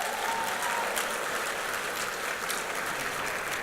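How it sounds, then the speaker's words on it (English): Steady, fairly loud applause from a union leadership conference crowd, a continuous dense patter of many hands clapping for several seconds. "let's give them a round of applause"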